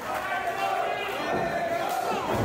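Crowd at a New Texas Pro Wrestling triple threat match cheering and yelling steadily throughout, a dense roar at close range with no break.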